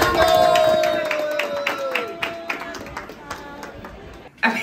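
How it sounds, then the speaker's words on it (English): Scattered clapping and cheering from people in a cruise terminal for the MSC Seascape, sharp claps and hand taps spread through the clip with a steady whistle-like tone and background chatter. "They're clapping."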